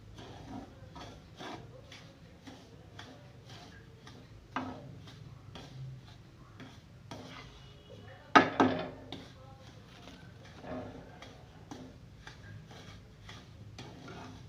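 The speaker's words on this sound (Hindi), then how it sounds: "मैं मुसलसल इसमें चमचा चला रही हूँ" A metal spoon scrapes and stirs semolina roasting in a pan for suji halwa, with quiet rhythmic ticking strokes against the metal and a louder clatter partway through.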